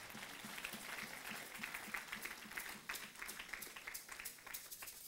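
A church congregation claps hands together in praise, a dense, steady patter of many hands sustained throughout at moderate loudness with no voices standing out.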